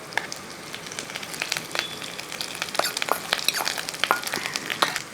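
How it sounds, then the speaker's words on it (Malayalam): Grated coconut, half a coconut's worth, roasts in a pan with cashews and raisins, giving a soft continuous sizzle with scattered light crackles and stirring scrapes, close and steady. "ഒരു തേങ്ങയുടെ പകുതി ആ തേങ്ങാപ്പീര അങ്ങോട്ട് ഇട്ട് കൊടുക്കുകയാണ്"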